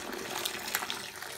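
Dirty water from a Vax Rapide carpet cleaner tank is poured into a sink, a steady rushing splash with a few brief gurgles, close and continuous, with no voices.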